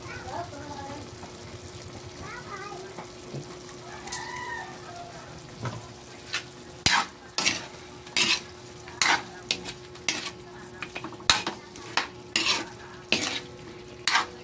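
Sotanghon glass noodles with chicken being stirred in a pan, a run of sharp rhythmic scrapes and clanks of a utensil against metal over a soft sizzle, with someone speaking briefly at the start.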